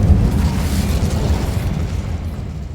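An Incendio fire spell cast in the game Hogwarts Legacy, a loud close burst of flame with a rumbling low roar that fades steadily over a few seconds, heard alone.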